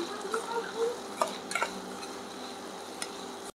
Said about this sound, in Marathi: तर हा कांदा आपण लालसर थोडासा फ्राय करून घेऊया